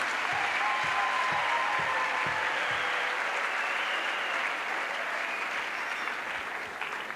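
A church crusade congregation applauds steadily, a full, even wash of many hands clapping together that fades slightly at the close.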